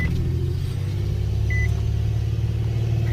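An Infiniti G37 engine idles with a low, steady rumble as its revs fluctuate, heard close up, with a single short beep partway through and no talking.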